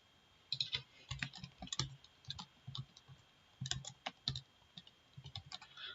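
Light clicking of typing on a computer keyboard, irregular close keystrokes in short bursts with small pauses, quiet and alone without any talking.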